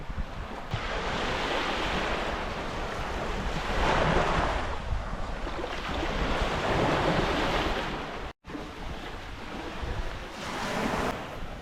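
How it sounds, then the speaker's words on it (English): Waves wash onto the beach at Leven in slow, repeated surges, each swelling and receding, loud and close, with wind buffeting the microphone and no voices. "you're out on a beach looking over the water"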